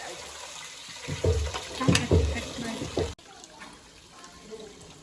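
Tamarind juice poured into cooked dal in a home kitchen, a short splashing liquid pour lasting a couple of seconds that stops abruptly, leaving quiet background.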